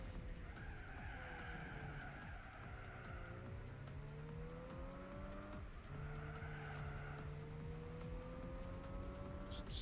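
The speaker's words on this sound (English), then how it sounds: "Slightly drifting around the corner." A race car in Gran Turismo 4 drifts through a corner during a race, with long wavering tire squeals over a steady engine drone. The squeal eases briefly midway and then returns strongly.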